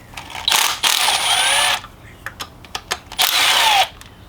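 A power tool fitted with an E10 bit removes two timing chain guide bolts from the engine of a Chevrolet Cruze 1.4, two close, loud whirring bursts of the driver separated by short clicks and ratcheting taps.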